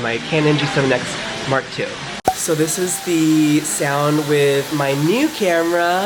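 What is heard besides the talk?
hairdryer running in a salon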